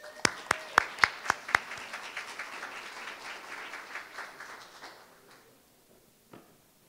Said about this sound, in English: let's give those young leaders another big round of applause